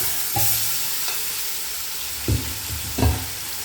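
Pork belly stirred with five-spice powder in a hot pan: continuous sizzling and frying with a few distinct stirring scrapes, loud and close, with no talk.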